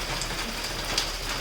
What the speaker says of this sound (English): Rains, please go away.